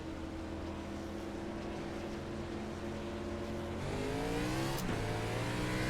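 A race car engine at Martinsville hums steadily around 5,000 RPM, heard from inside as a continuous layered drone that climbs in pitch near the end with a brief sharp rev, faint and muffled.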